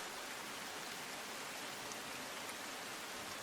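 Heavy rain falling in Navsari, a steady, dense, even hiss that fills the whole stretch without pause, loud and close, with no voices.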